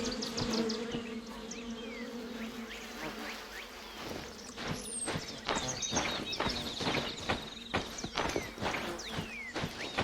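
Buzzing bees in a video game, The Vale: Shadow of the Crown, drone steadily with a rapid clatter of hooves or footsteps over it, busy and close, no voices.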